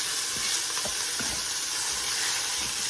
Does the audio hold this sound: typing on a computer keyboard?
no